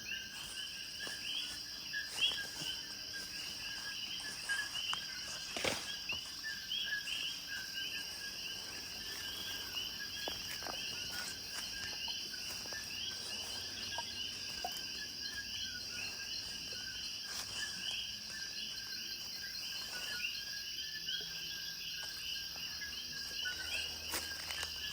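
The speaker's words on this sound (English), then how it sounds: "Here's one of the little coqui frogs. You can just hear him nonstop in the background." Steady high-pitched calling of coqui frogs at night in Puerto Rico, a continuous chorus of repeated chirps filling the background, fairly faint, with no talking over it.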